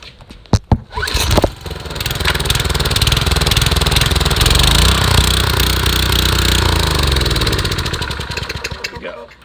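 A Tecumseh LEV120 vertical shaft engine, warmed up and running while detached from its chassis, sputters through a few hard pulls and then settles into a loud, steady buzzing run before dying out as it runs out of gas.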